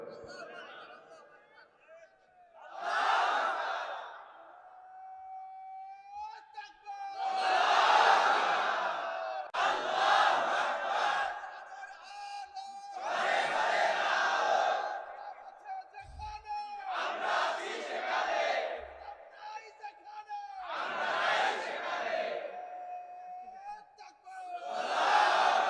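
A large crowd at a religious sermon chants slogans in loud, repeated call-and-response waves, with a lone voice leading between each roaring collective shout, six or so rounds in all.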